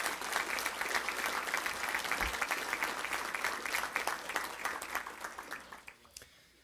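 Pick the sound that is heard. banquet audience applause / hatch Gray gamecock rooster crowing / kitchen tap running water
banquet audience applause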